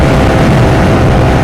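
Stella LML scooter engine straining up a steep hill in too low a gear, a loud, steady, close buzzing drone with no pauses.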